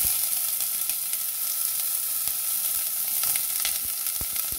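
Chopped onion sizzling in hot oil in a pan for a Bolognese sauce, a steady bright frying hiss with occasional pops and crackles, close and continuous with no talking.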